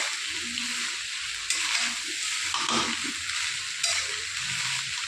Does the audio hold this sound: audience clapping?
no